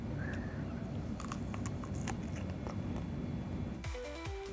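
Faint crisp crunches of biting and chewing crunchy jackfruit, several short bites close to the mic in a quiet room, ending with a brief rustle.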